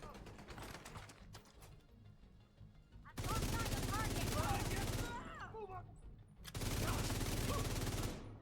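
FAMAS rifle fire in The Division 2, loud full-auto bursts in two long stretches with shell-casing jingles, separated by quieter moments of game ambience and brief shots.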